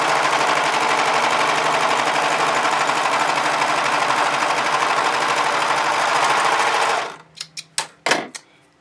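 A Brother 1034D serger stitches through cotton and stretch fabric, a loud, fast, even buzzing drone for about seven seconds that cuts off into a few sharp clicks and clunks of handling.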